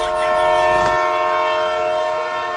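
A train horn sounds in long, steady tones over rumbling rail noise, loud and close, as a train pulls away.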